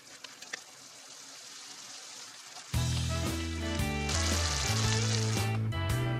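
A starch-thickened vegetable sauce bubbles and sizzles in a pan on the heat, quiet crackle at first, then louder frying joined by bright tonal clinks and a humming tone.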